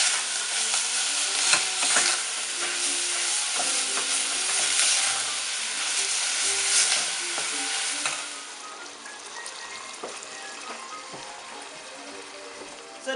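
Ground beef frying and being stirred and broken up in a pan while making chili beans, a steady crackling sizzle with scraping that stays loud and close throughout, easing slightly toward the end.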